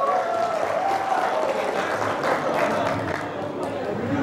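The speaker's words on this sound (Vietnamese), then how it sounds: "mọi người cho một tràng vỗ tay thật lớn được không ạ?" Audience at a company gathering applauding a singer's introduction, a steady wash of clapping mixed with crowd murmur, moderately loud and sustained for the whole stretch.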